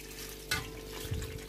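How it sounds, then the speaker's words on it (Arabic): Hot water pours steadily into a cooking pot over okra, a close, continuous splashing wash with a couple of soft knocks against the pot. "هلا بدي اكمل المي فوقها"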